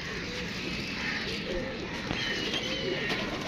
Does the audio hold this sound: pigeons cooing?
yes